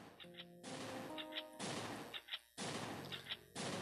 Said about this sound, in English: I haven't used a single shotgun in a while, have I?